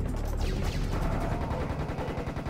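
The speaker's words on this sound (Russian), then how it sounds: "Потрясающее чувство, когда группу из них просто разваливаешь из двустволки." Double-barreled shotgun blasts in the Serious Sam video game, loud overlapping gunfire with booming bursts and rapid rhythmic thumps trailing off toward the end.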